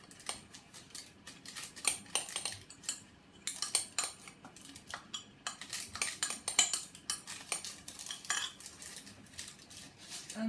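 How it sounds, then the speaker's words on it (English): A spoon mixes cooked rice into a blended chickpea mix in a bowl. Many quick, close clinks and scrapes of metal on the dish run in uneven bursts. "I'm just going to add the rice to the chickpea mix"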